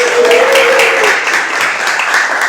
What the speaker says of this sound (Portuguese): Com vocês, aplausos para Luiz Galvão